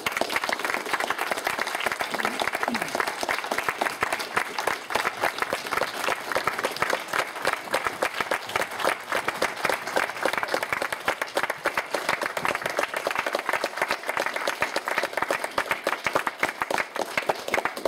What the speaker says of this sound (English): please give both of them a round of applause